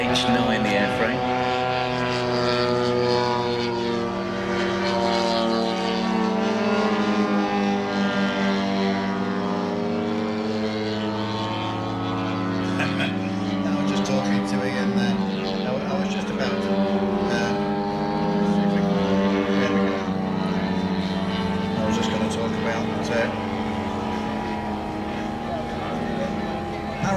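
A half-scale RC model aircraft with a DLE 170 petrol engine and an H9 airframe, at an airshow, gives a steady, wavering engine drone throughout, with a voice talking over it.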